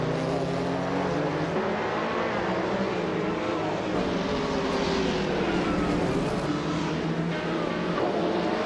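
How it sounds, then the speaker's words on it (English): Racing cars accelerate in a racing video game, a dense, continuous engine roar with rising and falling pitches as the tight pack speeds toward the first turns. "The pack is staying tight as they accelerate into the first turns."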